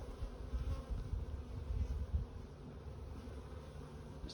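Agitated honeybees buzz steadily around an opened hive during an inspection, a close, moderately loud droning hum that swells and eases without any talk.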